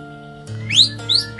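Crossbred captive-bred white-rumped shama (murai batu) singing close by, a few bright rising whistled phrases repeated in quick succession over a steady faint background tone.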